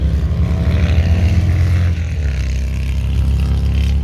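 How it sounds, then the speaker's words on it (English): A loud car passes, its engine roaring steadily throughout, a deep rumbling drone close by with no clear rise and fall, like a noisy vehicle revving. "Gotta love loud cars."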